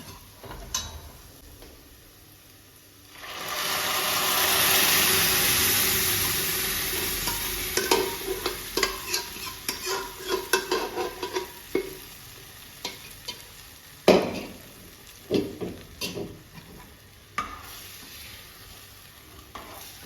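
Dal hits a pan of sizzling onion tempering with a loud rush of frying, then settles into a steady sizzle. Sharp clicks and scrapes of stirring in the pan come through the sizzle.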